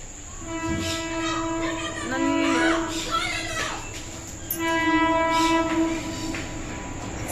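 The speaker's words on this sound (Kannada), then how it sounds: "ಟ್ರೈನ್ ಬರ್ತಿದೆ" A train approaches with loud, sustained horn blasts sounding twice over a rumbling rail roar, fairly close and growing.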